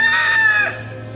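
A rooster crows loudly and close by, one strained call that tails off, followed by softer clucking from chickens.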